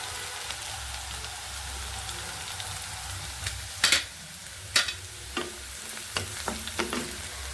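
Garlic fries in a pan for tomato chutney, a low crackling sizzle running under a series of scraping, clattering stirs that grow busier toward the end.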